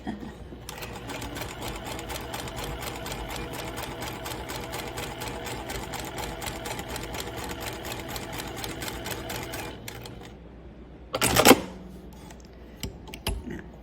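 A sewing machine joins quilt blocks in one long, steady, close run of rapid stitching that stops abruptly, followed by quiet handling and a single sharp clack.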